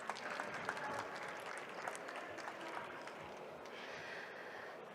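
An audience at a startup pitch competition gives steady, dense applause, heard from a distance and fairly quiet, continuing evenly the whole time.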